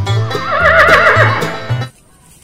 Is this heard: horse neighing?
yes